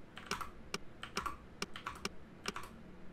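Quiz answers are typed quickly on a computer keyboard, with faint, close, irregular clusters of clicking keystrokes and short pauses between bursts.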